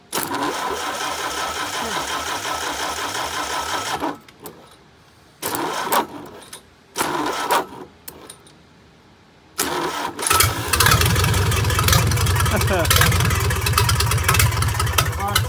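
A small engine with the choke on is cranked in several short bursts with pauses between, then catches and runs on with a steady low rumble, close by, while a voice speaks briefly.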